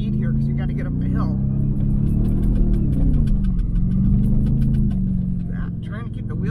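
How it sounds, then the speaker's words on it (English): A 2023 Ford F-150 Raptor R in Baja Mode with 4x4 locked climbs a hill off-road, its engine droning steadily and rising as it gathers speed, loud and close beneath someone talking throughout. "Gonna pick up some speed here because you gotta get up the hill."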